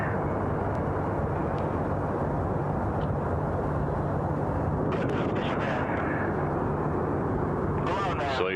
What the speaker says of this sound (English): Soyuz running up to full power